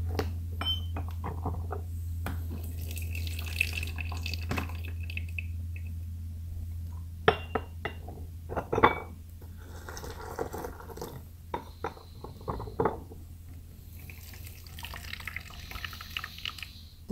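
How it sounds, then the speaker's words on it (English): Oolong tea, an autumn Tie Guan Yin, being rinsed in two vessels: small trickles and drips of hot water with light clinks of glassware and porcelain, faint and close over a low steady hum. "I'll just start a quick rinse for both."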